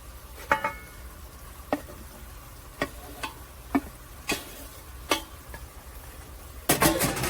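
Cubed pork loin lands in hot bacon fat in a stew pot, sharp scoops and clinks at irregular intervals over a low sizzle, ending in a louder burst of frying and clatter.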